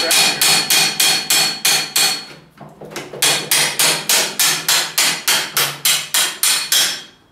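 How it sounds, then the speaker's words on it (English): Loud, rapid hammer blows strike metal in a steady rhythm close by while reassembling a Ford 800 tractor's front axle, pausing briefly midway before the regular pounding resumes. "so I guess the hammer will tell us what to do with it"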